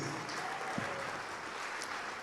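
A church congregation applauding during a sermon, dense continuous clapping at a moderate, even level with no break in the texture.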